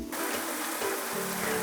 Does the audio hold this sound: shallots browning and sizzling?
yes